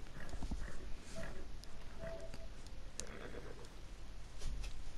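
A horse's hooves clop softly in Red Dead Redemption 2, a faint, uneven patter of steps over a low background rumble, with a few brief louder knocks.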